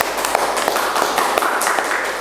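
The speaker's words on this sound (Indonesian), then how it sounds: "tepuk tangan untuk semuanya" Students in a classroom clap after group presentations, a busy patter of many hands with sharp individual claps standing out, loud and close throughout.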